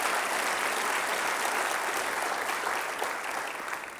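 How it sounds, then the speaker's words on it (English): An audience at a mayor's development forum breaks into loud, dense applause that gradually thins and fades toward the end. "let's give them all a big round of applause for this incredible project"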